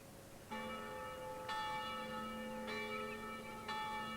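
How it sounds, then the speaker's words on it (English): A nearby church bell tolls in slow, evenly spaced strokes, each ringing with a sustained bright hum that overlaps the next, no voices present. "The bell in the nearby church began to toll."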